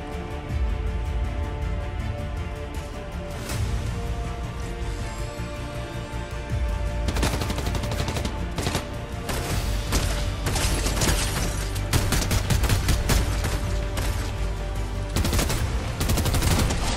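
Continuous firefights in Fortnite, with dense clusters of sharp shots and fast automatic bursts over a sustained game soundscape, intensifying after the first few seconds and staying loud throughout.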